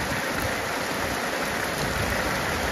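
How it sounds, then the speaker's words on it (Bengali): Steady, dense rain pours onto a river at Nokil Bil in Sakhipur, Tangail, a close, even wash of patter and splashing water that never lets up, with no voices. "বৃষ্টির মধ্যে নদীতে সাঁতার কাটা"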